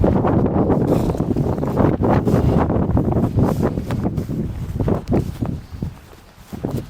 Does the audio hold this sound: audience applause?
no